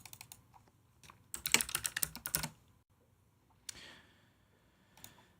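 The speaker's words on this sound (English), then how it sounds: "this keyboard, why? It literally won't even type now." Computer keyboard typing, a quick burst of close, sharp key clicks in the middle followed by a few isolated taps, with quiet pauses between.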